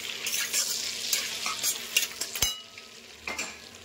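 Whole spices such as bay leaf, cumin, cinnamon, cardamom, cloves and black pepper sizzle and crackle in hot butter in a pan, with steady close frying hiss, occasional stirring clinks and scrapes, no talk.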